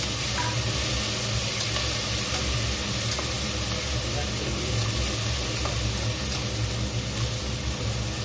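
Onions and chopped tomatoes sautéing in a pan produce a dense, constant hissing sizzle, loud and even throughout with no pauses.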